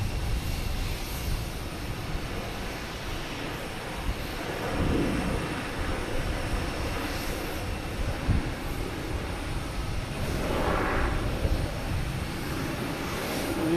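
A Delta airliner arriving at Boston Logan from Cancun gives a moderate, continuous engine rumble with broad noise that swells gently a few times as it passes.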